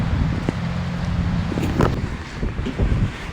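Strong wind gusts buffet the microphone on a city street in St. Petersburg, a loud continuous rumble with rustling and passing traffic and no voices.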